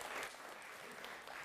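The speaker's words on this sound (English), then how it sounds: "Big round of applause for Elijah." Audience applause at a business talk on gamification and winning culture, a brief burst of dense clapping filling the room at steady loudness.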